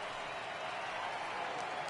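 A baseball stadium crowd of around 33,000 cheers and rises to its feet in a PS4 baseball game, a broad sustained roar at even loudness for a couple of seconds.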